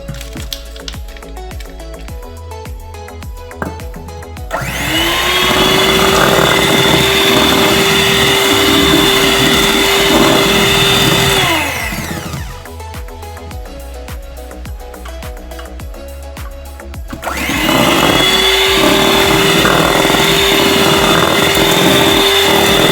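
Electric mixer beating a whipped cream mixture with powdered sugar for a white forest cake, a loud steady whirring drone in two long bursts separated by a quieter pause.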